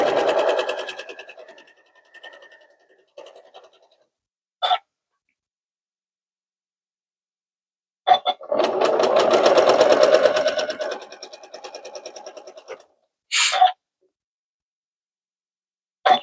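A sewing machine stitches quilt seams in short, close bursts of rapid needle chatter separated by silent pauses, with one longer run in the middle and a few brief clicks.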